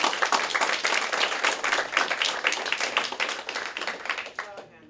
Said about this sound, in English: Well, let's have a round of applause for.